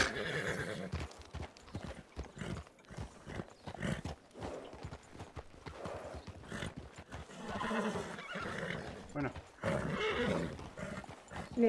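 Horse hooves clip-clop in a steady, repeated rhythm in the RedM roleplay game set in 1920, with loud whinnies and neighs breaking through the busy, continuous hoofbeats.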